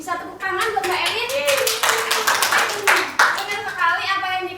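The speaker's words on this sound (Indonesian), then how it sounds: "Bisa tepuk tangan buat Mbak Elin." A classroom of students claps for a classmate during a microteaching lesson: a burst of sharp, uneven hand claps, with voices and a tonal murmur audible underneath as the clapping rises and fades.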